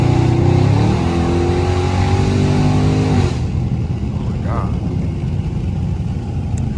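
Dodge Charger Scat Pack V8 accelerating on back roads, a loud rising engine roar with climbing pitch that drops back after a shift into a steady rumble, heard from inside the car.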